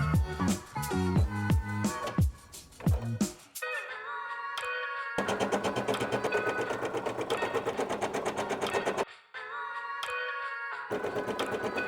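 Embroidery machine stitching out the top layer of a 3D puff-style design, a steady fast mechanical chatter that runs in long stretches, broken by short pauses and a brief stretch of other sound at the start.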